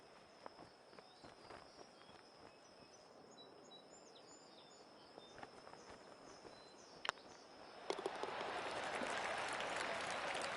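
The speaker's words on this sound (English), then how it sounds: "they even stand up when they clap" Crowd applause in a golf video game, scattered claps and small taps at first with birdsong in the background, then a sudden swell into broad, sustained clapping for the last few seconds.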